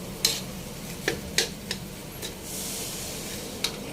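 Sinangag, Filipino garlic fried rice, frying in a pan over raised heat, a steady hiss with several sharp metallic spatula scrapes and clinks close by, no talk.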